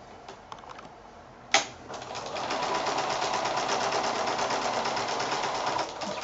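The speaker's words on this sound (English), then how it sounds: "So I'm going to sew that on." A sewing machine stitches quilt foundation piecing for a heart block, starting with a few light taps and a sharp click, then settling into a steady, fast, even whir that runs close and continuous to the end.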